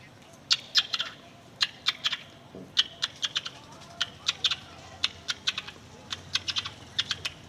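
A voice imitates a sparrow with quick, sharp chirps in short bursts, repeated in a lively irregular rhythm against a quiet background.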